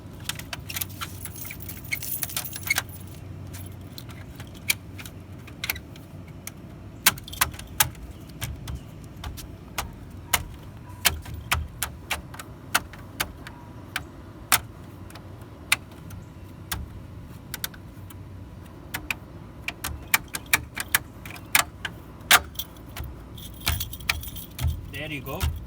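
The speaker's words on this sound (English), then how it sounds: "here is the keys." Car keys jangle near a car beside a wheel with a metal hub cap, scattered metallic clinks and rattles recurring in short bursts, under occasional talk.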